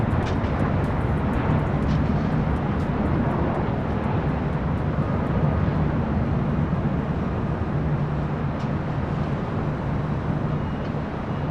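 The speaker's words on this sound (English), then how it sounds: "We see a American Dreamliner heading up here for a north side takeoff." An American Airlines Boeing 787 Dreamliner bound for Tokyo Haneda takes off from the north side at LAX, a loud, steady broadband jet roar holding for the whole stretch, with no voices heard.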